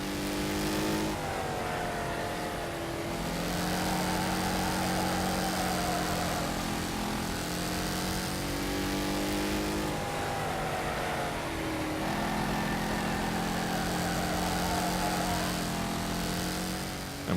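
A car engine revving steadily while drifting in the Wreckfest racing game, a loud continuous drone with pitch rising and falling as gears and throttle shift, with no talking.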